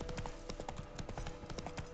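Roach the horse trots in The Witcher 3, steady rhythmic hoofbeats clopping close and clear at an even pace, with no talk.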